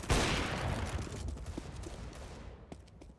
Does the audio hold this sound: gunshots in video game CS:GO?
yes